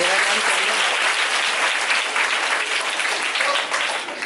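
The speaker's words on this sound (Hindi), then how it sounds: "चलो एक बार ताली बजा सब लोग।" At a staging of the play 'Kafan' by Very Special Arts India, the audience breaks into loud, thick applause, a continuous roar of many clapping hands with no pauses, easing slightly at the close.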